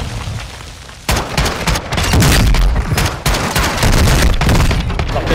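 Loud, close shotgun blasts in Warzone 2 fire in a rapid burst of sharp booming reports after a brief quieter lead-in, followed by a few more spaced shots amid the chaos of combat.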